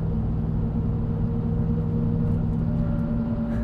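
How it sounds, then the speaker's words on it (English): Steady road and tire roar from a 2021 Ram 1500 TRX driving at night, a continuous low drone with a faint tonal hum running loud and unbroken throughout, with no talking. "The tires are pretty vocal too"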